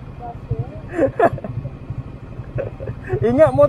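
A low, rumbling Suzuki RS150R motorcycle engine with an aftermarket exhaust idles steadily beneath people talking nearby, its throb continuous throughout.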